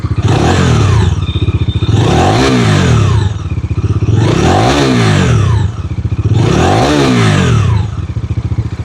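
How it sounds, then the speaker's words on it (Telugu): A Bajaj Dominar 250 motorcycle engine revs hard four times in a row, each rev rising to a loud roar and falling back, with a steady rumbling idle between. "ఒక్కసారి మీకు రెవ్ ఇచ్చి చూపిస్తాను,"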